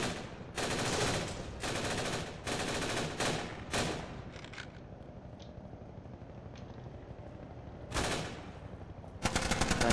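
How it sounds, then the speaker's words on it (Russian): Heavy gunfire from a Half-Life 2 mod video game, with several loud bursts of automatic fire in the first four seconds, a lull of softer background rumble, then more loud bursts near the end. "тут просто полное стрельбище"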